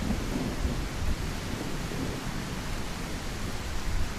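A thunderstorm in the survival video game The Isle, a heavy rain wash with a low rumble of thunder beneath, constant and broad with no speech.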